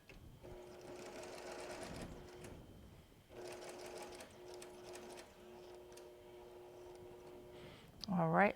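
Sewing machine running steadily while stitching a quilt seam on a log cabin quilt's sashing and borders, in two long close runs separated by a short pause, with a brief louder clatter at the end.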